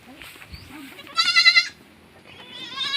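A two-week-old baby goat bleats in a few short calls, one loud quavering bleat in the middle and a rising one at the end, close by with little else around.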